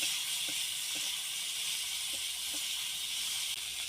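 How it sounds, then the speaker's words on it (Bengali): Chopped tomatoes and capsicum fry in a pan for a restaurant-style chilli cauliflower, giving a steady, even hiss of sizzling oil with a few faint ticks throughout and no voices. "এবার কেটে রাখা টমেটোগুলো দিয়ে দেব দিয়ে ওটাকেও হালকা ভেজে নেব"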